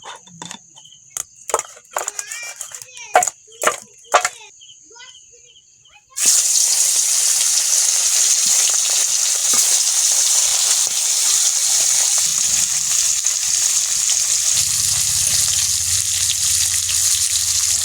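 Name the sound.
water running while washing fish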